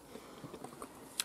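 Someone bites into a small crunchy orange Datlo tomato, giving soft close chewing and crunching sounds with a sharper crisp snap at the end, fairly quiet with no talking.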